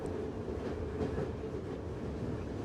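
A train in A Taste of the Past rumbles along its rails with a steady, low clattering roll, continuous and fairly quiet, with no voices.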